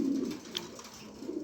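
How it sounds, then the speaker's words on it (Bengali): Racing pigeons coo in low, soft, rounded calls, strongest at the start and again near the end, over a faint steady background hum. "বেশ কিছু কবুতর আছে"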